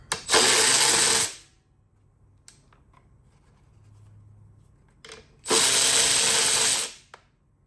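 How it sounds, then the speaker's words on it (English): Power tool driving off 10mm nuts and a bolt on the air filter housing of a Craftsman M270 mower, two loud sustained whirring bursts with faint clicks and handling noise between them. "We have two 10mm nuts and one 10mm bolt. Let me get those off real quick."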